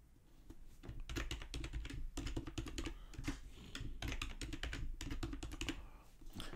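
Fingers type a password on a computer keyboard in quick, uneven bursts of key clicks with short pauses, close and clear with no talking.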